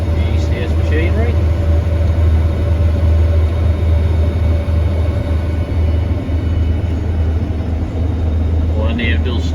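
A farm combine harvester threshing a dusty crop, and threshing poorly, produces a continuous loud mechanical drone with a broad rattling wash over it.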